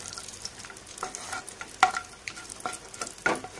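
Cashews and raisins roasting in ghee are stirred in the pan, giving a soft, close sizzle with a few sharper scrapes and clicks from the spoon, heard alone.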